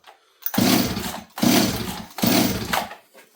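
A Stihl 026 chainsaw engine revs in three separate bursts, each about two-thirds of a second long with short gaps between them. The saw is close and loud, with no talking.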